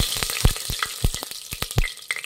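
Whole spices, a piece of cinnamon and a pinch of fennel among them, sizzle and crackle in hot oil for a plain pulao, with a steady frying hiss punctuated by sharp pops and a few stirring clicks, close and fairly loud.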